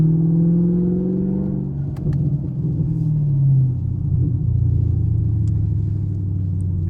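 Chevrolet Camaro SS driven in the rain, its engine revving up and shifting with a loud, close, deep rumble and rising and falling pitch sweeps; no exhaust pops stand out.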